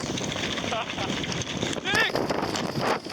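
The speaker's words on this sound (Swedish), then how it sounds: "Att det blåser riktigt jävla mycket" Gale-force wind roars steadily across a sailboat in a storm, a loud broadband rush buffeting the microphone throughout, with creaks and splashes mixed in.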